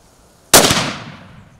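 A single loud rifle shot fired on a safari hunt with Motshwere Safaris and Outfitters cracks sharply, then its echo rolls away and fades over about a second, with no talk around it.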